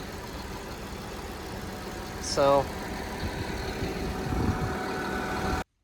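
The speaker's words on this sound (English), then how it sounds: "Even with that tractor off, it's still a very quiet engine." A quiet V8 engine idles as a low, steady hum under a short spoken word, with a brief higher whine partway through.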